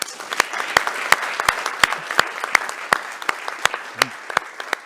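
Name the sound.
audience applause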